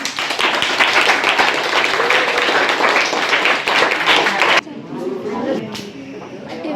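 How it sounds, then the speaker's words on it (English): Classmates clap for a student in a Grade VIII mathematics lesson, a dense burst of many hands lasting several seconds before it cuts off abruptly, leaving quieter room sound with faint voices. "Give him a clap, everyone"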